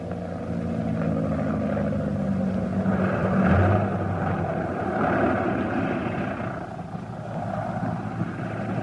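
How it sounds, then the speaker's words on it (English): A radio drama sound effect of a propeller airplane engine in flight, a steady droning hum with a slight rise and fall in pitch, heard alone without speech. "Amelia Earhart is nearing the end of her solo flight across the Atlantic."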